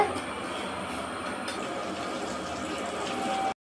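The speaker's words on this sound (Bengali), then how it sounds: "ভাজা শুরু হয়ে গেছে।" Fish cutlets frying in hot oil, a steady, even sizzling hiss that holds at moderate loudness before cutting off abruptly at the end.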